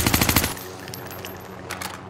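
Automatic gunfire from a Vargo 52 rifle in Warzone: a fast, loud burst of rapid shots that stops after half a second, leaving quieter background game sounds and a few faint distant cracks.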